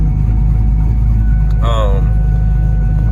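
An LS-swapped Ford Mustang drives along, its engine a loud, constant low rumble that fills the whole stretch, with a brief voice cutting in over it midway.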